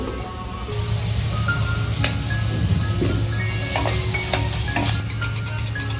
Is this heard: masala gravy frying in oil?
yes